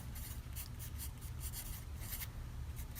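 A pen scratching out a genotype on a Punnett square, quiet continuous strokes with faint rhythmic rubbing over a low background hum.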